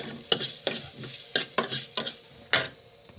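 Vegetables sizzle in a hot pan as a utensil stirs them, with about seven quick scraping strokes in an uneven rhythm over a steady frying hiss, close and loud.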